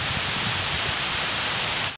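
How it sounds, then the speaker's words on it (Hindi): Very heavy rain pours down in a dense, continuous hiss, loud and steady, before cutting off abruptly at the end. "बहुत ज़्यादा तेज़ बारिश आ रही है"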